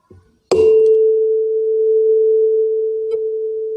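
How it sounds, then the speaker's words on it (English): A struck tuning fork rings with one steady, pure tone that begins with a sharp strike and holds loud and even for several seconds, with a faint tap near the end. "Sound from one tuning fork may even set another into vibration."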